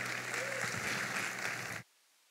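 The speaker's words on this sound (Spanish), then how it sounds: "Yo que usted le da un fuerte aplauso al Señor" Congregation at an evangelical church congress giving loud applause to the Lord, a steady wash of clapping that stops abruptly near the end.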